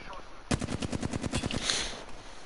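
Rapid bursts of automatic gunfire from a PS4 video game, a fast run of sharp shots lasting about a second and a half before a broader noisy blast, loud and close with no talk over it.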